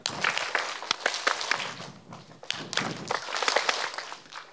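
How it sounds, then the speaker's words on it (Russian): A group of children clap in a lesson on rhythm patterns, with a scattered run of quiet claps and taps, some ragged and overlapping, easing off briefly midway before picking up again. "Вот смотрите, два хлопка резких, один длинный."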